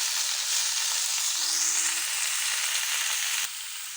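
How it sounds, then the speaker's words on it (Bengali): Spinach hits a hot pan in a Bengali mixed-vegetable and fish dish, giving a loud, steady hissing sizzle that carries on as it is stirred, then drops slightly in level near the end. "আমি এখন পালং শাকগুলো দিয়ে দেবো এবং দিয়ে দিচ্ছি"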